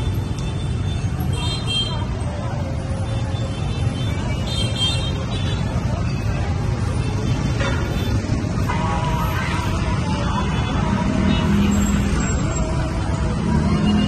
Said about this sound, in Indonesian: Ini sudah maghrib, masih macet.